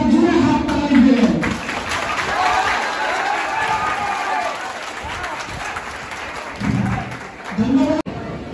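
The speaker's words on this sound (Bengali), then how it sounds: "আপনাদের শান্তনু স্যারের জন্য একজন একবার জোরে হাত তালি দিলেন" A hall audience at an annual festival and certificate distribution ceremony claps loudly and steadily for several seconds for an honoured guest, with a few voices and murmurs mixed into the sustained applause.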